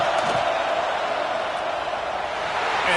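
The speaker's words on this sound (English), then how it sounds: "This crowd trying to do its part to get inside the kicker's head." A football stadium crowd roars steadily through a field goal attempt at an Auburn game, a dense, sustained wall of distant cheering and noise with no clear break.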